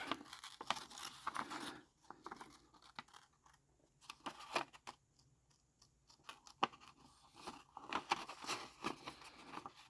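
Scissors snip and paper rustles and tears softly as a paper doll figure is cut out of a sketchbook page, close and quiet, in short irregular bursts with brief pauses.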